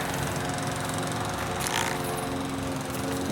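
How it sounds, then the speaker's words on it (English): Lawnmower cutting grass, its engine running steady and close with a constant buzzing drone and a brief rise in noise partway through, no voices. "Now we're going to break out the lawnmower."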